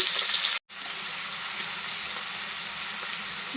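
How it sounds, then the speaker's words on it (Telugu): Green chillies fry in a few spoons of hot oil in a pan, a loud, dense, continuous sizzle heard up close, broken only by a brief silent gap near the start, with no talking. "ఇప్పుడు ఇదే బండిలో ఒక మూడు స్పూన్లు ఆయిల్ వేసుకొని దీంట్లో పచ్చిమిర్చి వెళ్ళిపోయి వేసుకున్నామండి"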